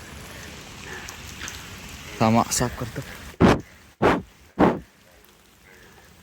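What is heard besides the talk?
rain falling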